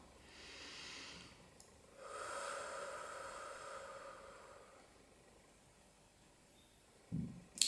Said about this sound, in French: Je vous invite à prendre une grande respiration